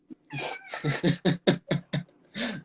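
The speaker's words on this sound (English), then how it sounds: "There's Sierra, my favorite cat." A cat in Visalia meows in a quick string of about eight short, loud, close calls, with a longer drawn-out meow to finish.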